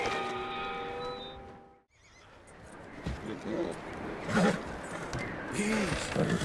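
Horse neighing in Red Dead Redemption 2, with a harmonic whinny at the start, a short silence, then more whinnies and snorts amid game ambience and hoofbeats, with voices talking over it.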